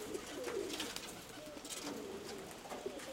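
Low, soft cooing of pigeons outdoors on a hot, windy morning, faint and distant under steady background wind noise, repeating in gentle murmuring phrases.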